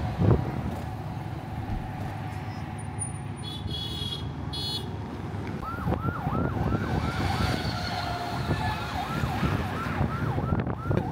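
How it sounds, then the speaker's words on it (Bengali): Siren on a government protocol car passing through a street near a railway station, a wailing, sweeping siren rising over traffic noise, with a whistle-like tone sounding ahead, loud and close as it goes by. "কোনো এক উপদেষ্টার গাড়ি, সরকারি প্রটোকলে গাড়িটা যাচ্ছে। সামনে হুইসেল বাজিয়ে"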